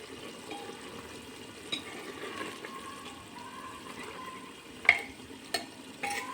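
Mutton and chicken liver frying in oil without water, a soft continuous sizzle with occasional sharp spatters and stirring knocks, fairly quiet and close.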